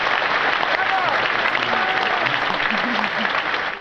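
A crowd in the video game Happy Wheels claps and cheers in a dense, continuous wash of applause, with a voice briefly audible beneath it.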